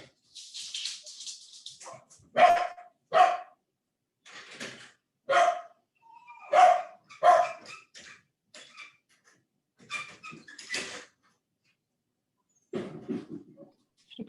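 A dog barks repeatedly in bursts during an online construction CPD webinar, sharp barks spaced through the clip with breathy pauses between, fairly close to the microphone, plus a few softer sounds near the end.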